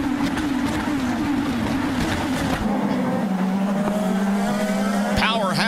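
IndyCar race cars scream toward a track-level camera between turns 4 and 5 at the 2011 Baltimore Grand Prix race start, roaring loudly overhead and dropping in pitch as they pass, with race commentary over the top.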